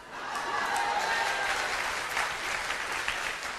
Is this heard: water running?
no